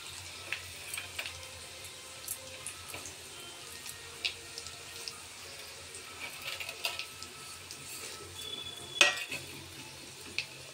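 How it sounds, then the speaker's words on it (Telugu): Dried red chillies frying in a pan for Andhra-style podi pappu, a faint, steady sizzle with occasional stirring scrapes and light clatter, no voices. "తర్వాత ఎండుమిర్చి వేస్తున్నానండి."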